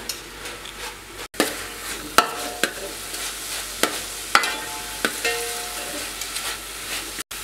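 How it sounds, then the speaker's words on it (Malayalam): Jaggery and grated coconut stirred over high flame in a pan for Kerala aval vilayichathu: a close, soft sizzle broken by a series of sharp scraping strokes at uneven intervals, no talk. "ശർക്കരയും തേങ്ങയും പൊട്ടിച്ചേരുന്നത് വരെ നന്നായിട്ട് ഇളക്കുക."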